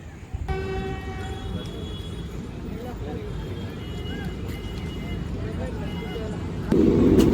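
A train at Chausa station in Bihar, on the Kolkata to Varanasi route, sounds a short horn, then a steady rumble continues under nearby voices, swelling louder at the very end.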